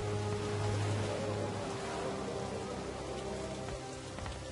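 Steady rain falls in the video game Satinavs Ketten, a dense, even patter of drops striking surfaces, loud and continuous with a low rumble underneath.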